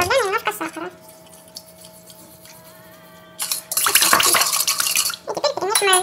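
A metal whisk clatters and scrapes briskly against a bowl while stirring yeast with sugar into sour cream and hot water for dough, a short quiet pause in the middle, then a louder stretch of rapid clinking.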